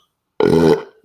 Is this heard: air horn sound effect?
no